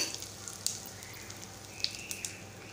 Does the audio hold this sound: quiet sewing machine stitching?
no